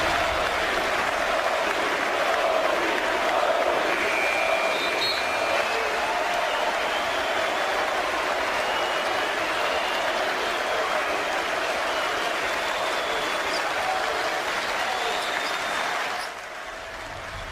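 An arena crowd at a New Orleans basketball game roars and applauds without a break for about sixteen seconds, loud and heard from within the stands, then drops off sharply at the end.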